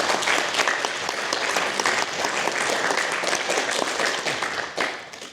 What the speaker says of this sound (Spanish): voy a pedir otra vez aplausos para el conde Piotr Potocki